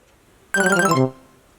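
A phone ringtone sounds as one loud, melodic electronic burst lasting about half a second, then cuts off into a quiet room with no talking.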